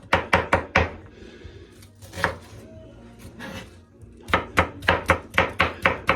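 A medium yellow onion is finely chopped on a board for smoked meatloaf, rapid crisp knife strikes in quick bursts, a quieter pause in the middle, then another fast run of even chops, close and clear.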